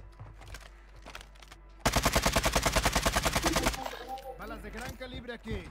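Rapid automatic gunfire bursts in a fast, steady rhythm for about two seconds, loud and close, with game sounds and brief voices around it.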